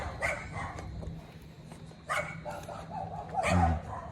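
A few dogs bark and yip in short bursts at moderate distance, with a steady low hum in the background.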